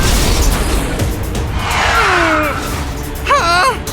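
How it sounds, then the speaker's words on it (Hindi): A steel cannonball is fired in an animated car battle, a loud rumbling blast with sweeping, falling whistle tones and a quick warbling burst near the end. "Steel cannon ball fire!"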